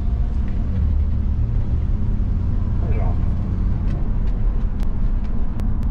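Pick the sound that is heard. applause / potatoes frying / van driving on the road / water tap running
van driving on the road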